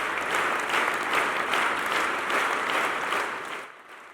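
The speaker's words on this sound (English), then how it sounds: "clapping non-stop for the entire duration of the record-breaking event" A church congregation clapping non-stop during a record-breaking longest applause event, dense loud rhythmic clapping that fills the space before dropping away near the end.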